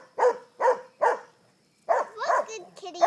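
A puppy barks at a rattlesnake close by: three sharp barks in a row, a short pause, then a burst of further barks and higher yips.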